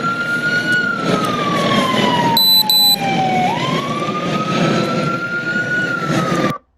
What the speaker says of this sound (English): Turn off that fucking siren.